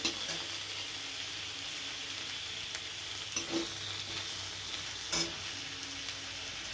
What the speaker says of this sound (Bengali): ফোড়নে দিয়েছি তেল, কালো জিরে, আদা, শুকনো লঙ্কা, টমেটো। এটা একটু ভেজে নেব।